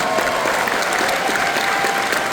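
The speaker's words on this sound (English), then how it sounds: "Please give yourselves a huge round of applause." Convention crowd at the Anthrocon closing ceremony breaking into loud, dense applause, a continuous roar of many hands clapping at an even level with no voices standing out.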